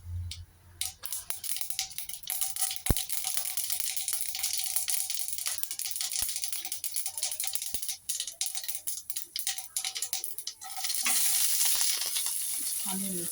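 Tempering spices, onion and curry leaves frying in hot oil for a Kadapa-style drumstick leaf fry, a steady loud sizzle with stirring scrapes and clicks, swelling louder near the end.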